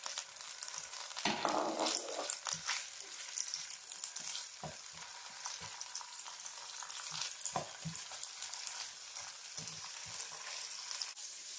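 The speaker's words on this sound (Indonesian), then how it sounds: "Kita goreng sebentar nih." Medan anchovies (teri) frying in hot oil in a used wok give a steady, close sizzle with crackling bursts and occasional stirring scrapes throughout.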